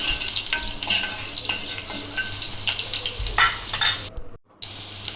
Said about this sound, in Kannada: ಬೆಳ್ಳುಳ್ಳಿ ಬೆಳ್ಳುಳ್ಳಿ ಸ್ವಲ್ಪ ಕ್ರಿಸ್ಪಿ ಆಗೋ ತನಕ ಅಷ್ಟೇ ಮಾಡ್ಕೊಂಡ್ರೆ ಚೆನ್ನಾಗಿರುತ್ತೆ